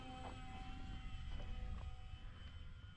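An RC model airplane flies in light wind, its small motor giving a steady, moderately distant drone with slight pitch shifts, and no talking.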